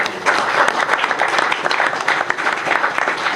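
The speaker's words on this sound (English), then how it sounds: "Let's give her a big round of applause." An audience at a public forum on the opioid crisis applauds its moderator, producing a close, dense burst of many hands clapping that stays steady for a few seconds without speech.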